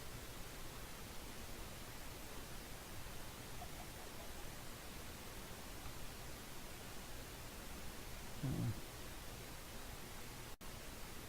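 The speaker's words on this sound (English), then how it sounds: "So you can hear that sound from huge caverns and stuff" Wind blowing through huge caverns deep below in a modded mining video game, a steady, faint hissing rush with a slight echoey hollowness and no talk.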